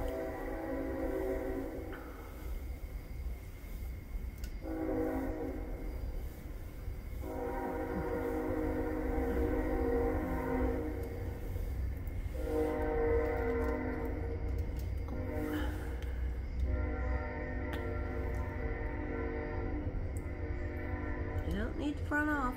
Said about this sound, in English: And there comes another train.